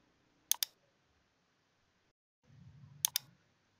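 Computer mouse clicking twice in quick double pairs, about two and a half seconds apart, close and crisp in an otherwise quiet room, with a faint low rustle before the second pair.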